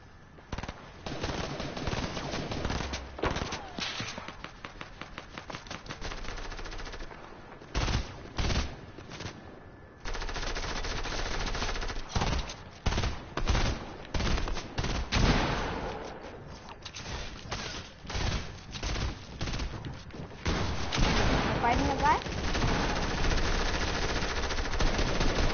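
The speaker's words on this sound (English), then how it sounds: "These SMGs are trash." Submachine guns fire in a video game in long rapid bursts and sustained sprays, loud and close, with short pauses between volleys and near-continuous automatic fire toward the end.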